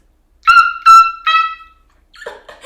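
A person imitates an alpine marmot's alarm call with three short, sharp, high-pitched whistling yelps, followed by a brief murmur of speech.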